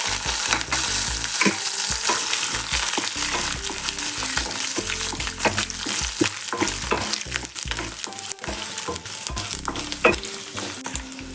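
Garlic, ginger and dried red chillies sautéing in oil for mint chutney, a continuous close sizzle with frequent clicks and scrapes of stirring throughout, no voices.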